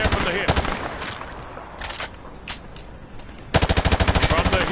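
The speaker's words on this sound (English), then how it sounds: "Grab that weapon off the table and fire at the targets behind you" Hip-fired gunfire at targets in Call of Duty Modern Warfare 2 Remastered on PlayStation 5: a few loud separate shots early on, then a fast, steady automatic burst near the end, with quieter game ambience between.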